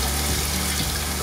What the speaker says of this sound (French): Je vais déjà mettre le vin.